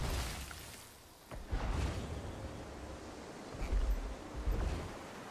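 Ocean waves lapping and surging in Guild Wars 2, a soft continuous wash with a few louder swells rising and falling over several seconds, no talk.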